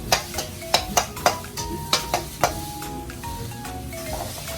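Vegetable pad see ew being stir-fried in a pan for a Thai street-food stall, with sharp metal spatula strikes against the pan in an uneven rhythm over a steady close sizzle.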